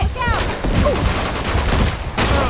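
Dense video game gunfire from Uncharted 2: Among Thieves, loud, rapid and continuous, with overlapping shots, echoes and faint voices mixed in.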